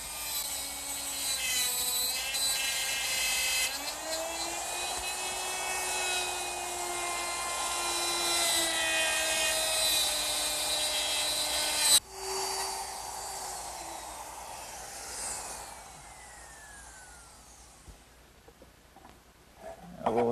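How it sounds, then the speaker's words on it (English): A router fitted with a dovetail bit and guide collar cuts dovetails in wood for a desk, giving a loud, close, high-pitched whine that holds steady, cuts off abruptly, then spins down while the bit coasts to a stop. "using my router with a dovetail bit and a little collar, I'll get perfect dovetails every time"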